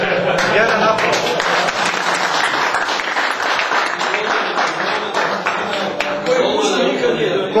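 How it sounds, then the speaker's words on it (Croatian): An audience in a TV sports studio applauds, sustained dense clapping from many hands that carries on steadily for several seconds, with some voices mixed in. "Jedan aplauz"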